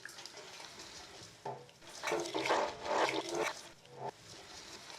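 A spoon swirls through brine with bay leaves, black pepper and spices in a bowl, giving soft sloshing and liquid swishes that swell into a fuller churn midway and then ease off.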